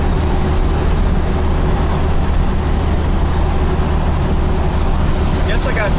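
A Ford truck running a swapped Cummins 12-valve diesel holds around 1600 RPM, a loud steady engine drone with constant rumble and road noise and no break throughout.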